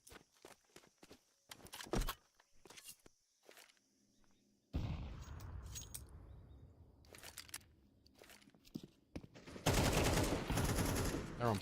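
Pistol gunfire in a Counter-Strike style tournament match, with sharp shots and bursts scattered among footsteps and game effects, growing louder and denser toward the end.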